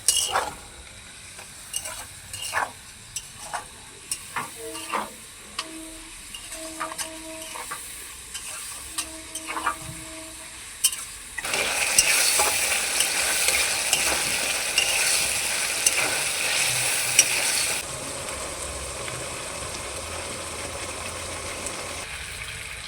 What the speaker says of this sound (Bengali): চিলি সস এখন একটু খুন্তি দিয়ে নেড়ে চেড়ে নেবো